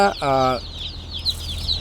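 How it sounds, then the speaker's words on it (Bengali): Original tiger-breed chickens on a poultry farm cluck and call close by, a short harmonic squawk near the start followed by softer chick-like peeps and farmyard background noise. "এখানে অল্প কিছু অরিজিনাল টাইগার জাতের মুরগি আছে"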